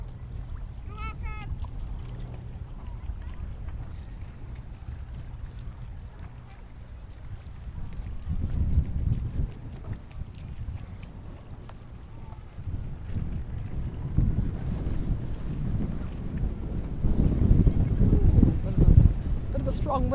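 A breeze blows along the Rotorua lakefront at the end of a hot day, heard as a steady low rumble of wind with microphone buffeting that swells stronger in the second half.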